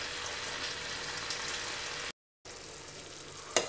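Prawn sukka, a South Indian shrimp fry, sizzles steadily in a pan, a dense close hiss that cuts out briefly before resuming, with a light clink near the end.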